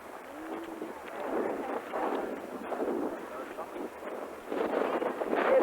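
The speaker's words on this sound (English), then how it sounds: "It is windy today." Gusting wind buffets the microphone outdoors during a 1994 tour in Germany, a low rumbling roar that swells and fades in waves for several seconds, with faint bits of voice in the background.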